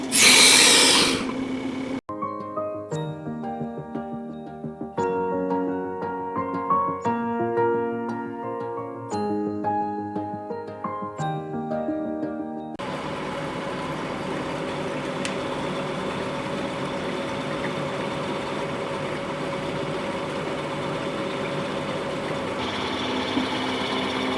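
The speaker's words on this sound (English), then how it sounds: "So this is the oil press machine." An oil press machine extracting oil from sunflower seeds runs in a factory setting, beginning with a burst of noise, then a stretch of tonal mechanical whirring with rhythmic pulses, and settling into a steady continuous hum.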